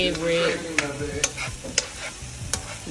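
Garlic and onion fry in a pan while being stirred, a close sizzle broken by several sharp utensil scrapes and taps against the pan.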